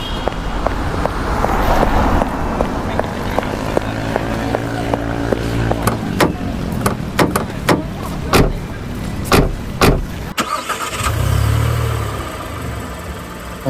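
A car's mid-range engine idles and pulls away, a steady close rumble broken by several sharp knocks and thumps, followed by a louder low surge near the end.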